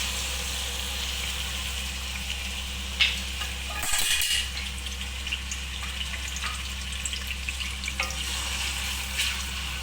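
Tomatoes frying in hot oil in a karahi for chicken karahi, a steady bright sizzle with a few spoon scrapes and clatters midway, alone without talk.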